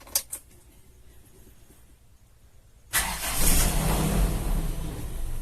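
A car with a radiator thermostat setup turns over after a few quiet seconds, the starter catching abruptly and the engine settling into a steady, close, moderately loud idle.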